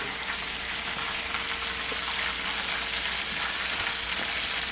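Chicken pieces seasoned with Slap Ya Mama fry in hot oil with a steady, dense crackling sizzle and a few faint bumps as the pieces are turned, no voices.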